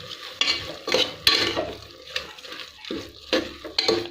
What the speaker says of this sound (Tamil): கலந்து நல்லா கிளறி விடலாம்.